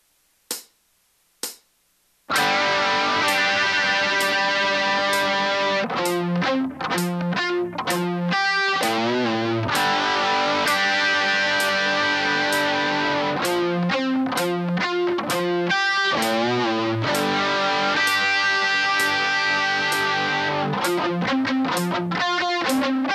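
Two sharp plucks, then a slow distorted electric guitar line of sustained, heavy notes and chords with brief choppy gaps, played loud and alone.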